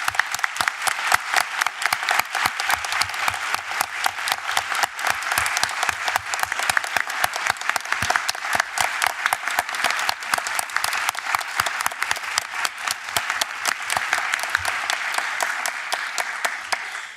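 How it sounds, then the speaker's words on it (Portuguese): Steady, dense applause from a large audience at a closing conference session, continuous rapid clapping that holds at an even level throughout with no voices standing out. "Eu queria pedir a todos uma efusiva salva de palmas"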